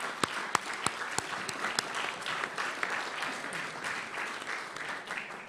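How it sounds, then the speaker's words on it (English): An audience at a National Press Club luncheon applauds the speaker, a moderate crowd clapping steadily in a large room, somewhat distant, with a few sharper claps near the start. "How about a round of applause for our speaker today?"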